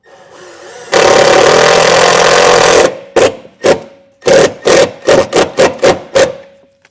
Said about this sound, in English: I'm just going to take the provided self-tapping screw and run it down.